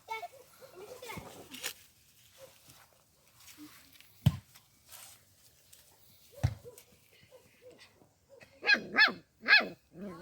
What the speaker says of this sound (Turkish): Aa, havlamayı da biliyor bu.